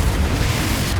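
A Confringo fire spell exploding in Hogwarts Legacy during a duel, a continuous loud rumbling blast that fills the short moment with dense low booming and no pause.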